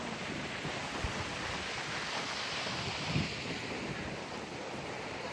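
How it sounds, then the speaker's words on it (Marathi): Surf rolling in at Manori beach as a continuous broad wash of waves, mixed with heavy wind noise buffeting the microphone; no talking. "आता आम्ही आलोय मनोरी बीचला."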